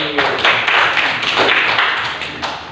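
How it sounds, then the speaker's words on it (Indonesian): A group claps hands together during a classroom ice-breaking game, a fairly steady run of overlapping claps lasting a few seconds, close and moderately loud. "Nah, tepuk tangan lagi."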